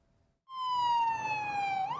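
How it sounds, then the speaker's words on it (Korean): A police car siren cuts in suddenly after a quiet moment, wailing with a steady descending tone before sweeping back upward, fairly close and clear, at an emergency scene in Vancouver where police cars and ambulances are responding. "경찰차와 구급차 수십 대가 사고 현장에 긴급 출동했습니다."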